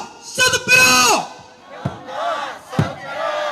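Crowd at a candlelight rally in Gimcheon against the THAAD missile deployment shouting a short protest slogan in unison, loud and close: a first call, a pause, then further rhythmic group shouts with a thumping beat.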